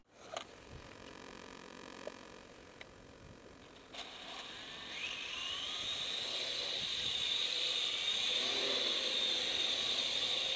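A Parrot AR Drone quadcopter spins up and lifts off, its rotors rising from a faint whir into a steady, loud high-pitched buzz that holds for the rest of the flight.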